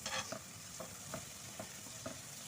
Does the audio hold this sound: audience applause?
no